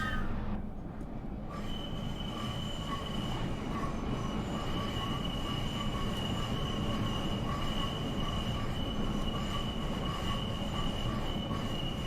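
Metropolitan Line train running in Train Simulator 2020, a steady loud rumble of wheels on track with persistent high-pitched squeal throughout, rolling continuously through a cutting near a tunnel.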